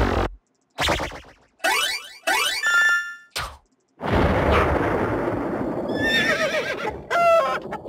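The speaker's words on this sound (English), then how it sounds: "a horse and a chicken." Horse and chicken effects for a horror game: a loud horse whinny with bursts of noise, then a long rumbling roar with shrill clucking and squawking chicken calls on top, near and loud.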